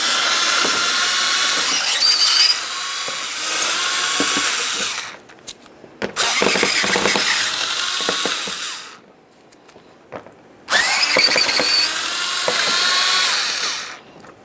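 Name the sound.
removing 7mm mounting bolts on a Ford Fusion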